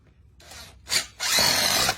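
A power drill driving fasteners into anchors while installing base shoe trim, in short bursts: a brief whir, then a louder buzz, then a longer sustained run, close and alone.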